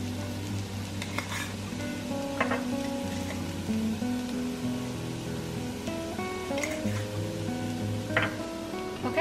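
Onions sizzle in a pan with salt, pepper, onion and garlic powder for a plant-based breakfast burrito filling, a steady crackling fry with occasional light clinks of a utensil, close and without talk.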